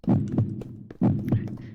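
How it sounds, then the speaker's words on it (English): Heartbeat sound effect in an anime scene, two heavy low lub-dub thumps roughly a second apart, loud and close, with a faint voice underneath. "She could feel the heartbeat from the depths of her body."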